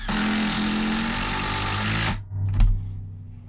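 Makita TD173 impact driver hammering a 3.5-inch screw, a loud continuous rattling impact burst for about two seconds, then cutting off with a brief motor whir and a thud.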